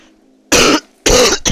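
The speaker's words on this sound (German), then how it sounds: "Oh Gott, da muss ich gleich husten" Two loud, close coughs in quick succession, each a harsh burst lasting about a quarter second, with a third starting at the end, over a faint low hum in a game setting.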